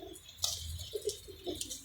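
Pigeons kept in a loft after rain cooing softly, a few low throaty coos close by with light ticking and pattering around them.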